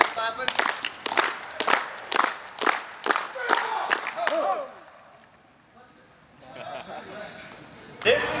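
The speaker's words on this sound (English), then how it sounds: "So let's get our hands clapping." A group of people at a coaches' clinic clap their hands together in a steady rhythmic series of sharp claps, about nine in a row, followed by quieter movement and a voice speaking.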